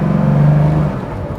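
A loud Porsche restomod engine drones while driving, a raw, buzzy low hum that holds briefly then eases off, close and alone.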